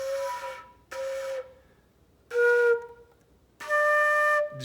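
A flute sounds a held D in four separate breathy tones, each about a second long with gaps between them, close up and alone, with no talking.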